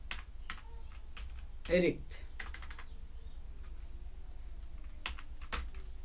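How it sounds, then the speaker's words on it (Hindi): Quiet computer keyboard typing in scattered bursts of soft clicks, one brief louder thump near the start, faint speech-like sound in the background. "चलिए यहाँ पे हम टाइप करते हैं हिंदी, कृति देव टाइप करते हैं"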